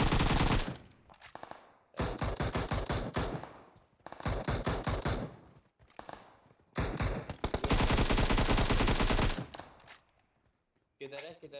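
Bursts of rapid automatic gunfire from a squad battle on the Erangel map in BGMI, several loud sustained volleys separated by short gaps, with a final brief burst near the end.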